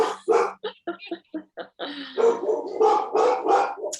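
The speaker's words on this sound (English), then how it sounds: "My dogs, they keep barking and they won't stop." Several dogs bark in quick bursts close by, sharp repeated yaps at first, then a denser run of overlapping barks and yelps that keeps going without a pause.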